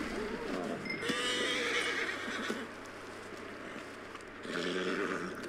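A video game horse in Red Dead Redemption II whinnies loudly in a long, shrill neigh, then snorts, with a softer neigh rising again at the end.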